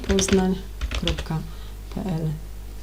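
Quick clatter of typing on a computer keyboard while building pages and links in a Google CMS, short bursts of key taps mixed with a person talking.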